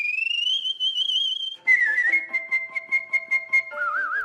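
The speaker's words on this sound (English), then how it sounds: "I whistle, and I love it" A skilled musical whistler performs a solo melody, the clear tone sliding smoothly through pitches and then breaking into short repeated notes before settling into a steady, sustained phrase.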